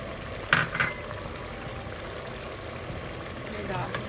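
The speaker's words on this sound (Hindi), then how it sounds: "ये डाल के हम अच्छी तरह भूनेंगे मसाले को।" Masala of tomato, red chilli, turmeric and salt fries in a pan for chicken jalfrezi, giving a steady close sizzle with bursts of stirring while a voice talks.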